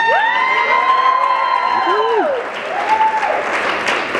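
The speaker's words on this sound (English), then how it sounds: "a big round of applause for the groom's mom." Wedding guests clap and cheer steadily, with a high whooping voice and sliding whistle-like tones riding over the applause.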